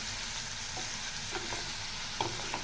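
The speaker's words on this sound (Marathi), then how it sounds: "मटरसुद्धा मी तेलामध्ये फ्राय करणार आहे" Green peas frying in oil in a pan for a paneer vegetable dish, a faint steady sizzle broken by a few soft stirring clicks, with no talking.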